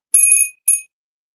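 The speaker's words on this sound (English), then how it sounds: "this is a North Dakota bell with the beautiful bird on there and the beautiful flower" A small North Dakota souvenir bell decorated with a bird and a flower rings twice, with bright metallic tones. The first ring is longer and the second is short, each clear and close.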